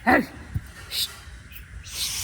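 Pigeons nesting in a village give a few brief, soft calls in a quiet spot, spaced apart with faint background hiss between them.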